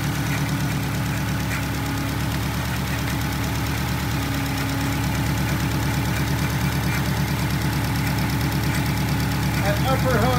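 A Subaru WRX engine idles steadily at operating temperature, a dense continuous mechanical drone with a fine knocking texture that stays loud and constant throughout, with faint background noise and no clear talk.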